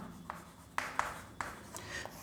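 A teacher writes on a classroom board: a few faint, separate strokes and taps at an uneven pace, quiet and close, with no talk over them.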